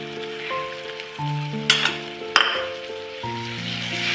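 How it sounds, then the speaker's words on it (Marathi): Tomato, cashew and onion paste fries with spices in oil for paneer tikka masala, a soft sizzle beneath sustained musical tones, with two sharp clinks of a utensil against the pan. "ही अशी मस्त अशी 2-3 मिनिटं अशीच परतून घ्यायची तेल सुटेपर्यंत"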